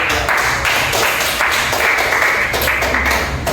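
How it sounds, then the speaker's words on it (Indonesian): A class of students applauds together after a group's performance in a classroom lesson, a steady, dense clapping that holds through the whole stretch with no voices over it. "Tepuk tangan kita bersama."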